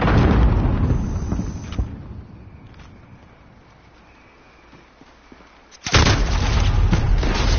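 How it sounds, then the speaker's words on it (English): A grenade blast and gunfire in a video game: loud dense bursts at the start fade into a quieter stretch, then a sudden sharp explosion hits near the end and stays loud. "Reloading! Grenade out!"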